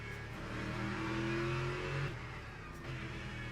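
Several hypercars roar past in a Le Mans racing video game, engines revving loud and close, swelling then fading as they go by, with no talk.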